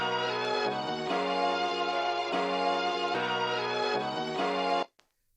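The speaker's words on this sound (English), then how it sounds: "you can add this in here and it sounds like this here." A looped electronic beat produced on a Maschine Plus with a vintage vinyl filter effect, a steady, muffled, band-limited groove with repeating chords, ending abruptly into a brief faint tick.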